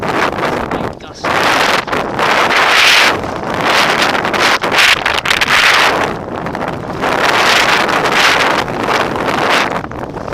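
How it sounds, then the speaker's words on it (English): Strong wind gusts buffet the microphone while sea kayaking on the coast of the Isle of Skye, loud surging roars rising and falling in repeated waves of rushing noise. "Big gust."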